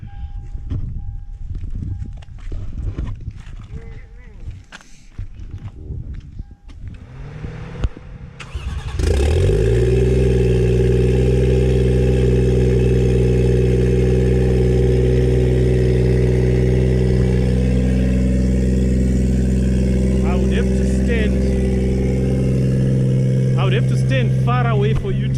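Toyota Supra engine cranks, fires up and settles into a loud, steady rumble with a rough exhaust, staying close and dominant throughout after a stretch of quieter handling noise.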